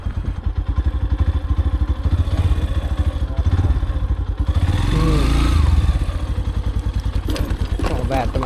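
Motorcycle engines idle and rev nearby as bikes are parked on a rough road near a waterfall at Devarapalli, with thumps and clatter and a swell of engine noise midway, under people talking.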